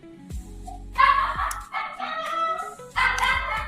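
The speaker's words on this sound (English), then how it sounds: "Is that your dog?" A dog barks and yowls in a home during a call, a few loud, drawn-out vocal bursts that rise and fall almost like speech, coming in separate bouts with quiet gaps between them.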